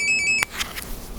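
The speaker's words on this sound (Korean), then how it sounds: "전화가 왔습니다" A telephone rings in a home, a brief electronic ringtone with a few rapid pulsing tones that cut off abruptly, followed by faint room noise.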